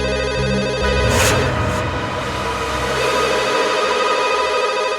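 A telephone ringing late at night, a loud repeated electronic ring tone sounding continuously and close.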